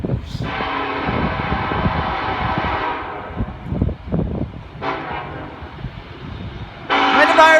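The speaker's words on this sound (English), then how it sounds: "Might be a racing train." Southbound train on the Charleston to Atlanta route rumbles past near Cornelia, Georgia, its long horn blasts sounding loud and close over clattering wheels, then another horn burst at the end.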